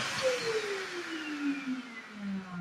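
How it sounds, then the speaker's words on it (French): A Vacmaster 1500W wet and dry vacuum cleaner with a 30-litre stainless steel tank switched on, its motor running steadily with a whine that slowly falls in pitch, close and fairly quiet, no talking. "Test de l'interrupteur. Aspirateur Vagmaster. Alors, fonction 1. Ça s'allume."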